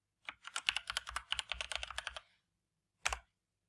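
Quick close clatter of keys typed on a computer keyboard in a Google Sheets spreadsheet, a burst of about two seconds followed after a pause by one firmer keystroke.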